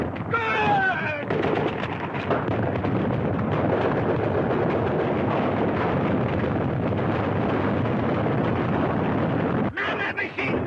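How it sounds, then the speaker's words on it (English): Machine gun fire in a war adventure film roars as a dense, continuous barrage of rapid bursts mixed with booming blasts, loud and sustained for most of the stretch, with shouting voices at the start and end. "Man that machine gun!"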